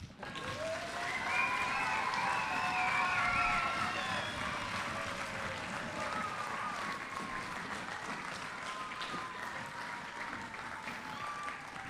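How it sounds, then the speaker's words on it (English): A school audience gives a long, loud round of applause, with dense hand clapping and foot stamping that stays strong throughout and fades slightly toward the end. "if you've got the biggest round of applause with the stamping of your feet and the clapping of your hands"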